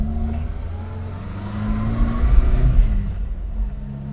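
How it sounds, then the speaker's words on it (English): A Vauxhall Viva HC pulling away in first gear from a hillside car park, its engine droning steadily with a thin transmission whine from the rear axle, close and continuous with no talking. "There's a very characterful whine from the transmission, probably the rear axle."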